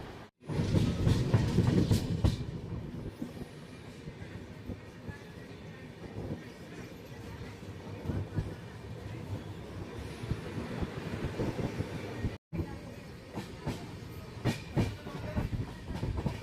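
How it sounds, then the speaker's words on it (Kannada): A passenger train, the Rani Chennamma Express, rolls on its rails while entering Ghataprabha railway station, with a steady loud rumble and rhythmic clatter, heavier at the start, plus brief gaps and sharper clanks toward the end. "ನಮ್ಮ ಟ್ರೈನ್ ಈಗ ಘಟ್ಟಪ್ರಭಾ ರೈಲ್ವೆ ಸ್ಟೇಷನ್ಗೆ ಎಂಟ್ರಿ ಆಗ್ತಿದೆ ಪ್ಲ್ಯಾಟ್ಫಾರ್ಮ್ ನಂಬರ್ 2ಕ್ಕೆ"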